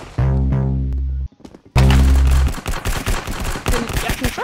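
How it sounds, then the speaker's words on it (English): Machine gun fire in a Roblox gun game: loud, rapid, evenly spaced shots in sustained bursts, with a brief gap before the firing resumes close up. "Oh, he had a machine gun."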